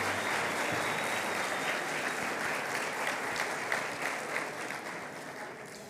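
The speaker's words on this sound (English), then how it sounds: "All right, another round of applause for Mary Scholl," Audience applause for Mary Scholl after her plenary session on classroom dynamics, as a dense, steady wash of clapping from a large crowd that fades slightly toward the end.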